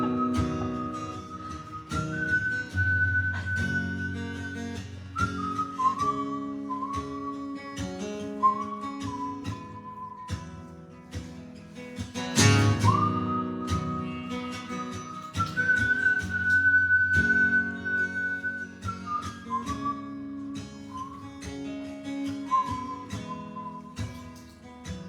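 A person whistles a slow, wavering melody with long held notes over a soft musical backing, clear and close throughout.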